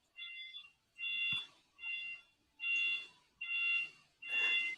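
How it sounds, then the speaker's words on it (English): An alarm somewhere outside beeps in six evenly spaced bursts, each a steady electronic tone, heard faint and at a distance with nothing else over it. "Is that your alarm?"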